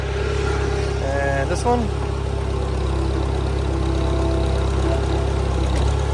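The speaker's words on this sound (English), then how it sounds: "Raise up our outriggers." A Case 580CK backhoe's diesel engine runs at a steady, loud idle throughout, with a brief hydraulic whine as the outriggers are raised; someone speaks briefly over it.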